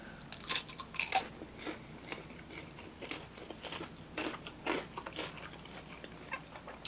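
Crunchy battered fried food at an Asian fusion restaurant being bitten and chewed close up, a few sharp crunches early, then softer irregular chewing crackles with no talk.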